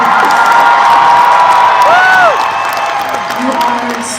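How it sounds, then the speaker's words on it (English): A fan crowd at an expo panel cheers and whoops loudly for the show's creator, with shouting voices and a rising whistle-like yell over dense, sustained noise that eases slightly toward the end. "can we all give a fucking round of applause for Vicky?"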